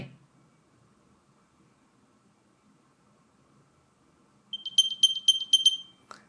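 A quiet stretch gives way to a bright, high chirping Find My alert from an AirPods 4 case, repeating rapidly in short pulses for about two seconds, then stops.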